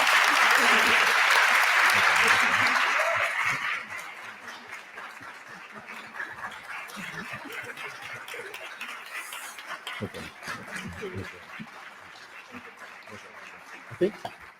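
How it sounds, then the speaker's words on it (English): Loud audience applause at an event breaking the silence about fibroids, dense clapping for the first few seconds that fades into chatter and scattered claps as people talk. "Give them all a round of applause."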